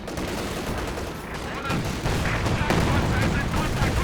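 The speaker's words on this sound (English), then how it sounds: "Flak Panzer missing a lot of shots" Rapid bursts of flak gunfire from a Flak Panzer in the Company of Heroes 2 video game, a dense crackling fusillade that grows louder in the second half, with a voice talking over it.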